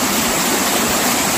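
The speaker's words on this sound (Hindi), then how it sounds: "इस साइड से आ रहा है पानी और ये इस साइड जाकर झरना बना रहा है" Roar of water plunging about 40 feet at Siddha Khol waterfall near Kasdol, a steady broadband rush that stays loud and even throughout with no voices.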